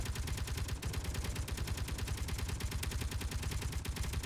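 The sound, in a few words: turret gun firing in the video game Space Engineers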